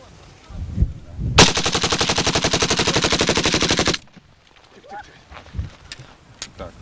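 A long burst of rapid automatic rifle gunfire rattles steadily for a few seconds, loud and close, at the Lysets firing range, then stops; quiet talk and movement follow.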